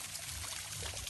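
Cold spring water pours steadily into an old stone water spout, a dense continuous splashing rush, close and even throughout, with no voices.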